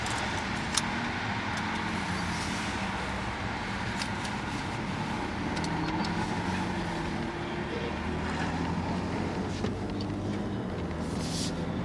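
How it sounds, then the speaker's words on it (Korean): A BMW X4 M with a 510-horsepower engine pulls away from a toll gate, its steady engine and road rumble loud and continuous from inside the cabin throughout. "여기 톨게이트 지나서 다시 한번 좀 달려보도록 할게요"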